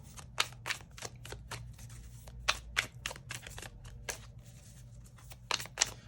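Tarot cards are shuffled quietly and repeatedly, a string of short crisp riffling snaps arriving in uneven bursts over a faint low hum.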